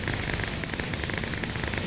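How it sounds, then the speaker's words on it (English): Fireworks in the Minecraft video game crackle and pop in a rapid, dense stream of small bursts, loud and continuous with no talk over them. "Oh, fireworks."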